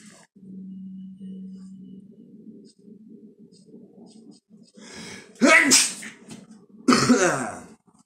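A person sneezes twice in a quiet room, two sharp, loud bursts separated by about a second and a half, after a stretch of soft muffled breathing and a faint low hum.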